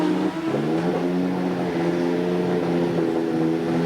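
A Lotus Renault Formula 1 car fitted with a Renault qualification engine idles and revs in the pits at the 1986 Australian Grand Prix, a loud, close, steady engine drone with slight pitch wavering throughout.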